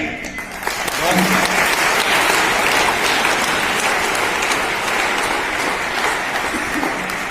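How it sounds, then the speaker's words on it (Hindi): Audience at a traffic-safety talk bursts into applause after a brief pause, a full crowd clapping steadily and loudly for several seconds with faint voices mixed in. "वेरी गुड, तालियां।"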